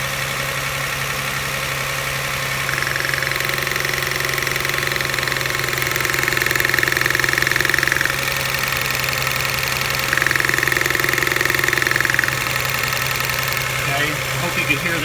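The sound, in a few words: 1999 Toyota Camry Solara 3.0L V6 engine idling with misfire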